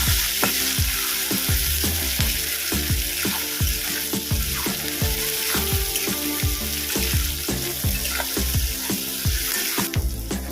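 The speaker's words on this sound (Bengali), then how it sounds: "এবার কুচিয়ে রাখা টমেটো দিয়ে দেবো যতক্ষণ না টমেটো দিয়ে কাঁচা বন্ধ যাচ্ছে ততক্ষণ পর্যন্ত এটা ভেজে নেব" Chopped tomatoes fry in a pan for a restaurant-style chingri posto, a steady close sizzle broken by regular knocks of a spatula stirring against the metal, with no talking.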